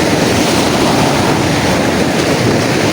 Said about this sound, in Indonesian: Ombak sepertinya masuk ke goa,